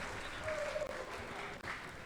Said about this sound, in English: round of applause for your WBS Junior Wool Handling finalists